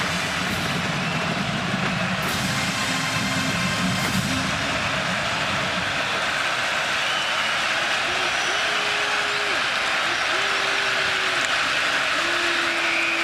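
A dense, roaring Michigan State stadium crowd at a college football game before a third down, running throughout, with a few voices and whistles rising above the steady din.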